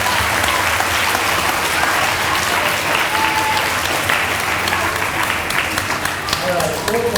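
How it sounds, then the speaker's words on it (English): An audience at an elementary school D.A.R.E. graduation ceremony applauds the graduates, a dense, continuous round of clapping, loud and sustained throughout. "let's give our graduates a round of applause"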